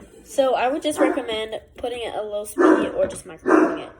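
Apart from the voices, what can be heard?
dog barking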